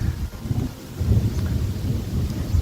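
Rain pours hard during an elk hunt in Utah, a steady low rumbling wash of drops and wind buffeting the microphone, with possible thunder rolling underneath and no talking.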